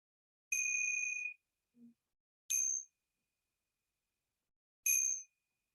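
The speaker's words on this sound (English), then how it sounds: "Opening your ears to sounds in the room, and you'll hear the sound of the bell." A meditation bell rings three times, each strike bright and clear with a short shimmering decay and pauses between strikes, in a quiet room with no talk.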